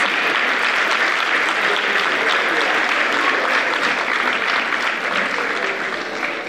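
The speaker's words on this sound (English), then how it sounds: "Give them a round of applause." Dense, sustained applause from a large audience at a college graduation ceremony, loud and even throughout, slowly tapering at the very end.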